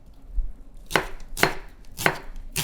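A knife chops through dill and fava beans on a cutting board, being prepared for rice, in four sharp, evenly spaced strikes, close and distinct against a quiet background.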